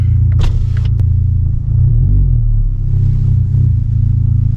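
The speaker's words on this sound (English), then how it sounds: "The car's been on for about 2 minutes now, and the revs just fell to about, I don't know, 850 RPM." A 2023 Acura Integra engine idles steadily around 850 RPM, a loud, continuous low rumble that holds level throughout with a brief uneven wobble midway.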